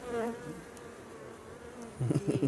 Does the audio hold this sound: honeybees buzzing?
yes